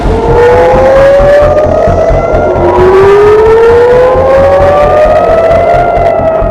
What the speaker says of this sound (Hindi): इजराइल का तेल अवीव सायरन की आवाजों से गूंज उठा।